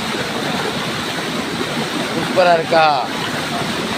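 Kalakadu waterfall pours in a steady, close broadband roar that runs the whole time, with a short spoken question breaking in over it partway through.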